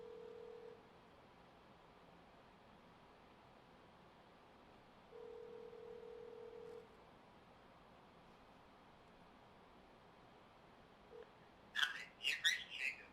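Outgoing call ringing on a Nokia 7 Plus phone: two faint, steady ringback tones about a second and a half long, separated by a quiet pause, followed by a brief burst of sound at the end.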